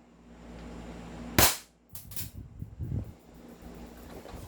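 An upgraded airsoft Glock 17 pistol fires a single sharp, loud shot during a chrono speed test, followed by quieter mechanical clatter and handling noise against a low steady hum.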